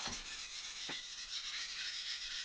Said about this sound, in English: Now I've done about the same amount of the sharpening on the other side.